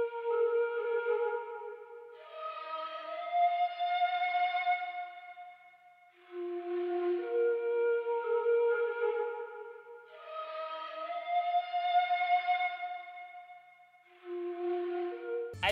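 Breathy ethnic flute phrases from a software instrument, with sustained, gliding notes and ornamented turns, played in repeating melodic lines with a soft echoing tail; no drums are evident.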